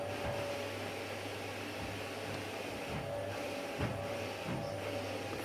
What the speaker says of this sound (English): Of course Mark starts to hoover again.